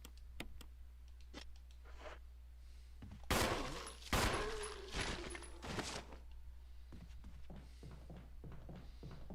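Pistol gunfire in the video game Resident Evil Remastered, several sharp loud shots spaced a second or so apart over a quiet hum, with lighter clicks and footstep-like sounds in between.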